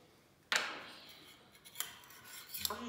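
A metal spoon scoops and scrapes citric acid powder in a kitchen science experiment, giving a sharp clink followed by two quieter scraping clinks, close and faint with no talking.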